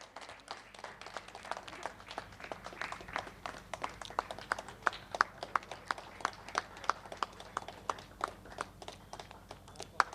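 An audience at a wellness seminar in a Jaipur restaurant claps to welcome guests, a dense, steady patter of many hands kept up throughout, moderately distant and fairly quiet.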